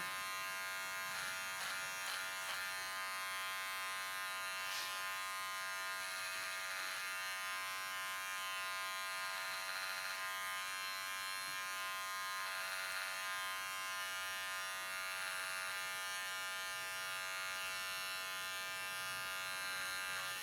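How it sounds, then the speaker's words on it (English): Electric hair clippers buzz steadily and closely throughout a men's clipper-over-comb haircut, a constant high electric hum with slight changes as they move in and out of the hair. "So when you use your clipper comb, because of its flexibility, go in and out, in and out, in and out"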